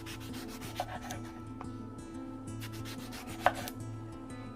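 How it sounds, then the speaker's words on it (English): A knife slices eggplant into thick, roughly inch-wide rounds, giving soft rubbing cuts and a couple of sharper taps on the board, quiet and close, with a low steady hum underneath. "So I'm cutting them about maybe an inch thick"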